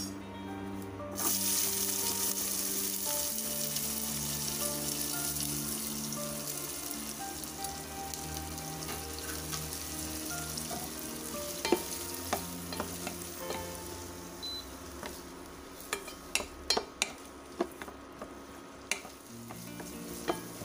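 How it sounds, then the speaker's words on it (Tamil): Onions sautéing in a pan for okra kara kuzhambu, a steady close sizzle lasting about twenty seconds, with scattered spatula scrapes and taps that grow more frequent toward the end. "வெங்காயம் நல்லா வதங்கிடுச்சு"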